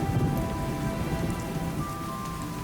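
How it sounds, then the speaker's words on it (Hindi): Heavy rain pours down steadily, a dense, loud hiss of drops hitting surfaces with no letup and no voices. "बारिश लगातार तेज होती जा रही थी।"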